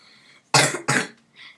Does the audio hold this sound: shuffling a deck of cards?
no